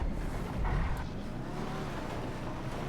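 An Imponte Deluxo car driving fast in GTA V, a continuous close engine roar with a brief surge near the start, steady and loud for the whole stretch.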